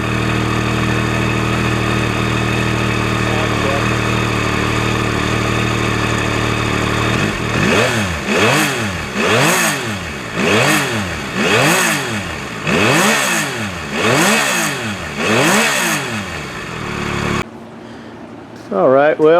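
A 2021 Yamaha MT-09 motorcycle sits idling steadily up close, then revs repeatedly in a series of rising and falling surges before cutting off abruptly.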